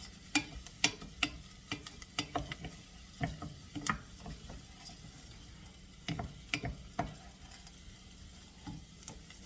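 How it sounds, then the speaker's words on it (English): A cup of orzo pasta is stirred around in a pan, giving irregular scraping and clinking strokes with a soft sizzle underneath, close and fairly quiet, with no talk. "stir it around so we can get all those lovely flavors together"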